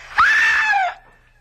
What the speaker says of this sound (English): Please, if you've ever done anything for me in your life, scream.